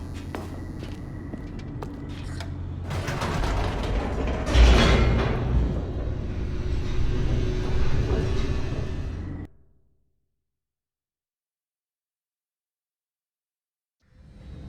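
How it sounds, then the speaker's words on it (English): Elevator descending in The Stanley Parable, a steady mechanical rumble with creaks and a whooshing surge that builds and peaks, then cuts off abruptly into silence before a faint return at the end. "The elevator raced downward,"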